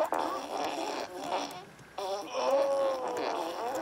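Cartoonish fart sound effects from the video game Crop Duster Supreme, buzzy and warbling, in quick succession with a voice-like tone over faint game background.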